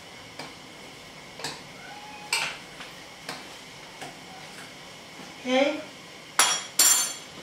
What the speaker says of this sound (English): Stir it and don't let it stick.